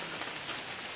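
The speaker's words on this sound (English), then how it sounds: "It's raining." Steady rain falls on the trail in the White Mountains along the Appalachian Trail, a dense even hiss with no voices.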